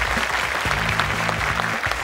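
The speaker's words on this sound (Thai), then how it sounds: "อยากจะให้ทุกท่านนะครับปรบมือดังๆนะครับให้กับเจ้าของนวัตกรรมเครื่องควบคุมการปั๊มหัวใจและการให้ยากระตุ้นหัวใจขณะช่วยชีวิตด้วยนะครับ" An audience claps for the inventor of a device that controls heart compressions and cardiac stimulant dosing during resuscitation, at an innovation awards event; steady, dense applause from a crowd, with a voice briefly over it.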